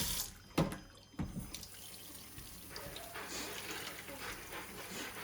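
Running water from a tap splashes over a sea bream as it is washed in a sink. Two sharp splashes come early, then a steady, quiet stream of water continues.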